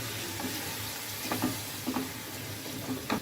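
Chicken gizzards and liver hit a pan of frying spice paste, giving a loud continuous sizzle with a few soft stirring scrapes and thuds near the end, close up and without speech.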